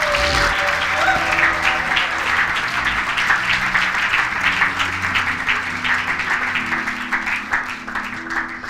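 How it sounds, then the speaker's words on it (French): A church congregation claps and cheers in sustained, loud applause that fills the room, with music or organ tones held underneath throughout. "Est-ce qu'on peut encore acclamer pour le roi des rois?"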